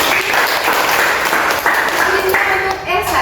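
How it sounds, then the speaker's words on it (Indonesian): Classroom audience applauding student presenters during a school guidance session, a short burst of steady clapping with voices mixed in. "beri tepuk tangan untuk"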